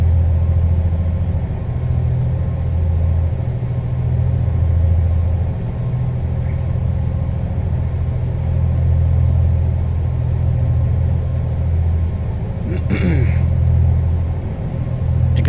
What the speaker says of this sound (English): I'm liking the sound of this truck too. It's not quite the open pipe sound, but it's still got a nice hum to it.